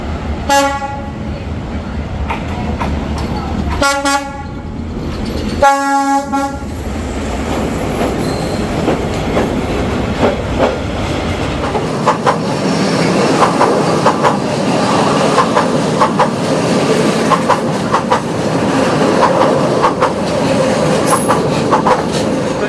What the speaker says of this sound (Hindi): ये थी हनोई की ट्रेन स्ट्रीट और आपने देखा कितनी बड़ी एक्चुअल में ये जो ट्रेन थी